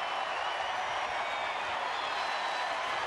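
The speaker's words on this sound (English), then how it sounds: "Crowd getting back into it." Baseball stadium crowd at a Rangers home game against Tampa Bay in 2013, rising with a full count and two outs as closer Joe Nathan pitches: a steady, dense roar of cheering that holds at an even level throughout, with no distinct claps or voices.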